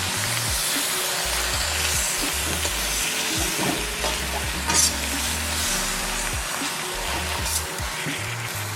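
Bok choy fries over high heat in a hot pan, a continuous close sizzle with stirring scrapes and occasional louder spatters, no voices.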